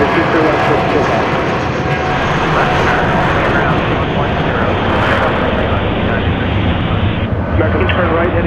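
Jet airliner taking off at Houston's George Bush Intercontinental Airport, a loud, continuous broadband engine roar that holds steady throughout, with a radio voice talking over it.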